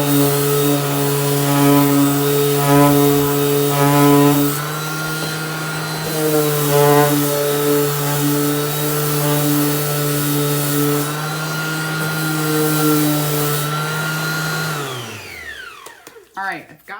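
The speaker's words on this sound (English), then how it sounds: "So I have my sander here, and I'm just gonna go around the edges and get it really roughed up." An electric sander roughs up the edges of a piece of furniture, a loud, close, droning motor with shifting pitch that runs steadily and then winds down near the end.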